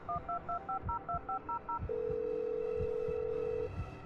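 Touch-tone keypad beeps from a phone being dialed in the Blair Witch video game: about ten quick dual-tone presses in a steady rhythm, then a long sustained ringback tone over a low background rumble, with no talking.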